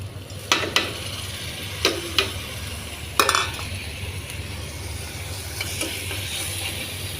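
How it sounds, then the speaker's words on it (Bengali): Prawns fry in a pan with onion and garlic for a papaya and prawn curry, a low steady sizzle punctuated by several sharp metal spatula clinks and scrapes near the start. "চিংড়ি মাছগুলো অ্যাড করার পর চিংড়ি মাছগুলো ভালোভাবে ভেজে নিতে হবে আপনাদের"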